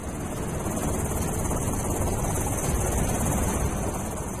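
Coast guard helicopter hovering over the sea during a rescue of fishermen stranded on a boat off Daman, a steady loud rotor and engine roar mixed with wind and water noise throughout.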